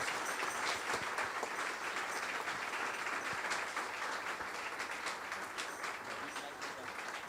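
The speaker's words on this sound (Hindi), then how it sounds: "इसी तरह हम आज के कलाम को और हमारे बुजुर्ग खादम पास्टर जॉर्ज को जोरदार तालियों से वेलकम करेंगे जी।" Applause from the congregation at a church praise and worship service, a continuous, even round of many hands clapping, steady and fairly distant.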